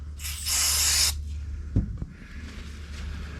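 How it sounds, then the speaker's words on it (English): Brake and clutch cleaner is sprayed onto a van's brake calipers in a loud hissing burst lasting about a second. A few clunks and quieter rustling follow, and no one speaks. "we'll give these a proper clean up with a bit of brake fluid. Not brake fluid, brake and clutch cleaner."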